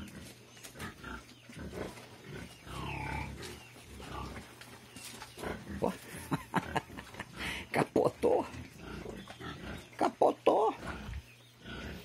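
Sow and her piglets on a farm grunting and squealing in a scuffle, with loud bursts of squeals toward the end, heard under and between a person talking.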